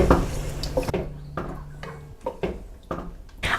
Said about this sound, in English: And then we'll stir that all together.